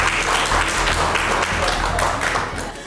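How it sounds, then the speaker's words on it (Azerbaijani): A studio audience at a televised comedy contest breaks into dense, loud applause that carries on steadily throughout, with a voice faintly audible under the clapping. "Uzaqlaşdırıldınız, amma xahiş edirəm alqışlayaq."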